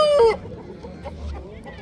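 A rooster at a busy poultry bazaar lets out a loud, close crow that breaks off after a moment, followed by low market murmur.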